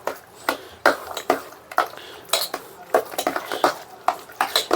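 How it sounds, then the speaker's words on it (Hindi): Litti chokha filling being mixed with mustard oil in a bowl, giving a run of sharp clinks and scraping taps from a spoon against the dish, fairly close and steady, with no one talking. "और इसको हम अच्छे से मिक्स कर लेंगे"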